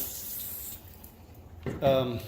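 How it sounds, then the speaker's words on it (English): Rainwater from a greenhouse collection system sprays out of a hose, a thumb pressed over the end to fan it like a sprinkler; a short hissing spray close by that fades, then a person starts talking. "It actually has a little bit of pressure where I can use my finger to kind of make a sprinkler spray."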